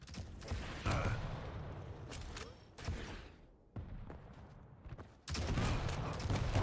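Gunfire in the arena shooter Quake Champions during a tournament match, with bursts of weapon fire, thuds and game effects, plus a loud sustained blast toward the end.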